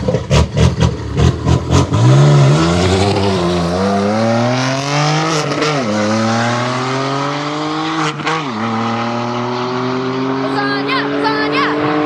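A Honda drag car accelerating down a drag racing strip, its engine climbing through a long rising rev with several gear-change dips, loud and close, starting after a few short revs and fading as it pulls away.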